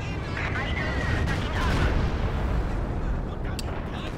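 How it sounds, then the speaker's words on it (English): Company of Heroes 2 battle with a Stuka dive bomber attacking, heavy continuous rumbling explosions and gunfire filling the scene, with a faint rising whine above the roar and a commentator's voice partly under the din. "we can hear the Jericho trumpet. Stuka"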